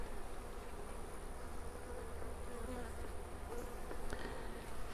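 A honey bee colony from a captured swarm, led by a newly mated queen, hums in a dense, continuous drone while the hive is opened for inspection, close and steady with no talk.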